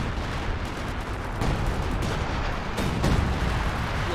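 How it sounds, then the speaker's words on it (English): Artillery fire in the game Company of Heroes 2 makes a dense, continuous rumble of distant blasts and battle noise, with a few louder thumps standing out. "A little bit of major artillery there"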